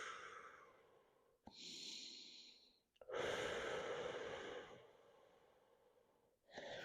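During a stretching warm-up, a person breathes out through the mouth in long, soft, airy exhales, two or three of them, close and quiet, with short pauses between.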